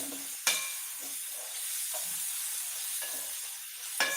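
Meal maker (soya chunk) chukka fry sizzles in a pan with a steady hiss, broken by a few sharp scrapes and clinks of a spoon stirring, fairly faint and close, no voices.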